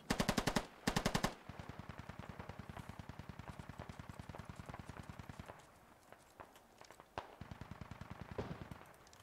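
Automatic gunfire in the military shooter Squad, sharp close bursts at first, then a long steady run of rhythmic rounds, followed by scattered shots and a final burst.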